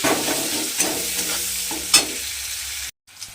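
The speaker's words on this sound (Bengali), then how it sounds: "পেঁয়াজটা আমি এর মধ্যে দিয়ে একটু লাল করে প্রথমে পেঁয়াজটাকে ভেজে নিতে হবে" Onion frying in oil in a pan until browned for a fish curry, a steady bright sizzle with a few stirring scrapes, loud and close, cutting out briefly near the end.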